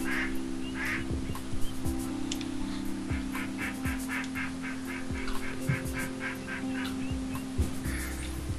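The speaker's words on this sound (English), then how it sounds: "Why am I hearing ducks?" Ducks quacking in the Miss Popularity video game, a busy flock of bird calls repeating steadily over a layered game soundscape with music or ambient tones, fairly loud throughout.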